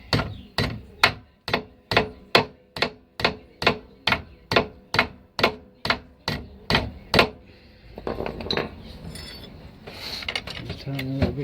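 A hammer strikes metal in a rapid, steady series of about fifteen sharp, ringing taps while seating a Daewoo Matiz rear subframe bush, close and clear, followed by scraping and rattling handling noises.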